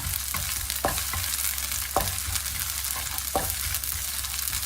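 Shrimp paste stir-fried with garlic and shallots sizzles steadily up close, punctuated by several sharp scrapes and taps of a spatula in the pan at irregular intervals, with no voices.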